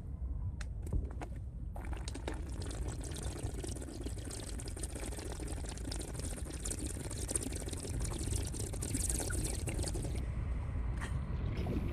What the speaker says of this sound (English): I'm gonna drink more water.